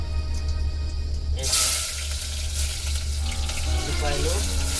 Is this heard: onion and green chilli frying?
yes